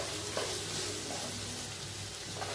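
Grated coconut and spices sauté in a hot pan for an egg kurma masala, making a steady, close, soft sizzle that carries on evenly with no voices.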